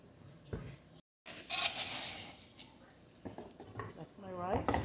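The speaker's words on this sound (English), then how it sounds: "over here, got a little pan, put some oil" Oil sizzles loudly in a small frying pan, a bright hiss that rises suddenly and fades to a lower crackle, with a voice speaking before and after.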